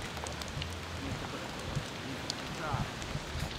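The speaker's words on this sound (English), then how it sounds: "So it's always raining like this." Steady rain in Costa Rica patters on a surface throughout, a dense even hiss with scattered drips, while voices murmur faintly underneath.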